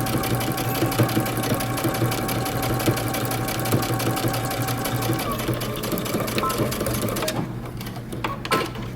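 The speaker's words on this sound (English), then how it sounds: "we're going to go ahead and stitch our flap, pocket flap down" A sewing machine stitches a bomber jacket pocket flap down with a fast, steady mechanical chatter that runs for several seconds, then stops near the end, leaving a quieter tail. A voice talks over it.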